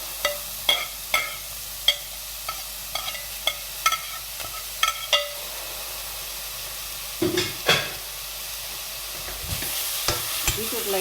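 Beetroot sautés with onions in a pan, giving a soft background sizzle punctuated by repeated sharp scrapes and taps of a spatula stirring at an uneven pace, close up with no voices.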